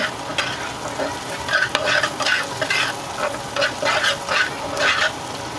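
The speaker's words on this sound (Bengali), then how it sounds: "এখন একটু ভালোভাবে নেড়ে চেড়ে সবগুলো একসাথে মিক্স করে নেব" A spoon stirs salt and red chilli powder into frying food in a pan, giving rhythmic scraping strokes over a soft background sizzle, close and moderately loud, with no speech.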